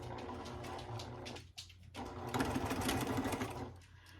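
A sewing machine stitches quilt pieces in a steady, close mechanical whir, with a brief pause before it runs on at full speed.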